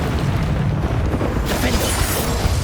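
Spell blasts in the video game Hogwarts Legacy: a dense, continuous roar of magical bursts and booms with a brighter hit partway through, loud and close.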